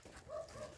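A Malinois dog on a farm gives a single short, faint vocal burst lasting under a second, with no talk over it.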